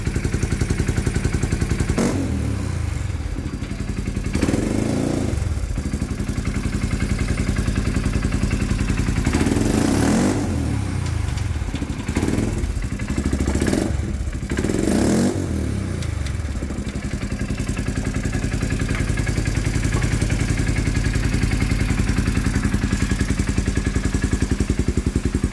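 A Power Wheels Ford Raptor ride-on converted to run on a Polaris Sportsman ATV engine idles loudly and steadily nearby. Several throttle blips rise and fall over its continuous rattly drone.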